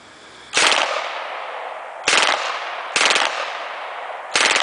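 An Uzi submachine gun fires four short full-auto bursts, each a loud, close, rapid rattle followed by a lingering echo in the pause before the next burst.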